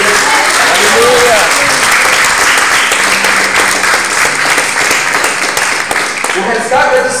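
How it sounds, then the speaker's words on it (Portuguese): A church congregation applauds loudly and continuously during an evening worship service, dense clapping filling the room with voices and cheers mixed in throughout. "Você pode aplaudir o Senhor"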